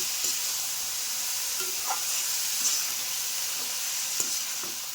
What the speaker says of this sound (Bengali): এবার দিয়ে দেবো কলার মুছা এবার সব কিছু দিয়ে সুন্দরভাবে মাখিয়ে ভেজে নেব